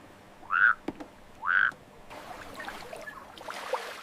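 Two short croaks from frogs in a wetland, about a second apart, loud and close, followed by a hiss of rustling background noise.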